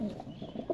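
Soft, low pigeon coos rise and fall in a short burst, close by, with no talking.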